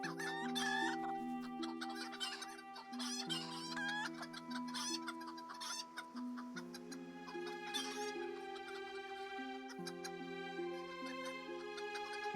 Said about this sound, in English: And my chickens catch up.